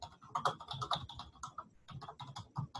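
Typing on a computer keyboard to enter a search for buy-and-sell groups: a fast, uneven run of close, crisp keystrokes with brief pauses, and no voices.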